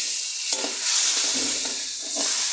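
Packaged biryani masala fries in oil in a pot, a loud hissing sizzle punctuated by a few scraping stirs of a spoon, close and steady over a short stretch.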